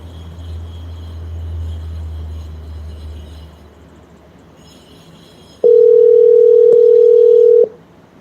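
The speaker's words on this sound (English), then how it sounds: "I'm going to call up on a different number" A steady telephone dial tone sounds clearly for about two seconds as a call is placed, after faint background noise, ending abruptly.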